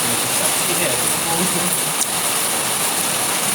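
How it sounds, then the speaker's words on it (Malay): Steady rain falls in a continuous, even hiss with no breaks, fairly loud and close throughout. "Sini hujan lagi."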